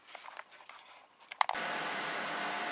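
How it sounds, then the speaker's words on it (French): A workshop air conditioner runs with a steady, loud broadband whoosh that starts abruptly after a brief click, following quieter scattered handling sounds. "Je vais éteindre ma clim parce que ça risque de vous faire du bruit."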